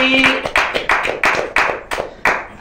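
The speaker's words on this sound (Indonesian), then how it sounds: "Tepuk tangan Mbak Ili." Applause from a small indoor audience greeting a guest, heard as a few loud, close hand claps in a fairly regular rhythm, about three per second, with no talking over them.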